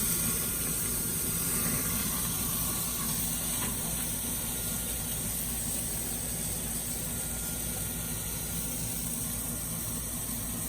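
Porterhouse steak searing in a pan with garlic and seasoning, a continuous even sizzling hiss that stays steady and fairly loud throughout, with no voices.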